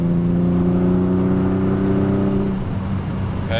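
A Porsche 911 climbs a 270-degree on-ramp, its engine droning steadily and loudly up close with strong harmonic tones that drop off as it eases back near the end.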